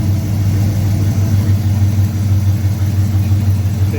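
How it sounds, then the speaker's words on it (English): V8 engine of a 1968 Camaro running steadily during timing and dwell tuning, a loud, low, even idle rumble with slight pulsing, close by and without talk. "So you see the engine is changing."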